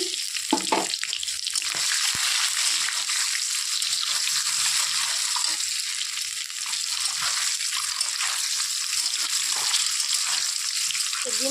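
Vegetables frying in oil in a pan, a continuous bright sizzle that stays loud and even throughout, with a few faint knocks and no voices.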